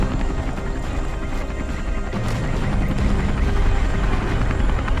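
Helicopter rotor and engine noise from the Vietnam War video game Call to Arms, a steady loud drone that fills the whole stretch with a thump partway through, and no talk over it.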